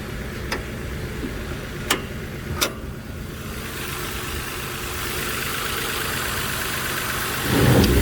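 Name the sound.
2015 Nissan Xterra engine running with small exhaust leak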